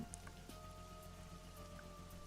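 Steady, faint rain patters on a surface in an even, continuous wash of drops, with no voices over it.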